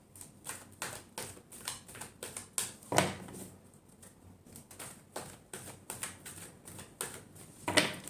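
Tarot cards shuffled by hand, a rapid series of soft riffling taps and clicks in irregular bursts, close and fairly quiet, with no one talking.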